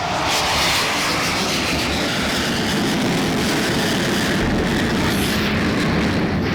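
A Rafale fighter jet roars through a loop and tight turn, its steady broadband engine rush filling the air loudly and continuously with no voices.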